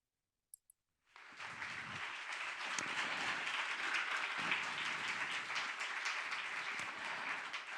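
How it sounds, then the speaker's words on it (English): Sustained audience applause fills a conference hall after a talk, starting abruptly after a brief silence with a couple of faint clicks, then holding as a full, even burst of many hands clapping with no talk over it. "Another applause, please"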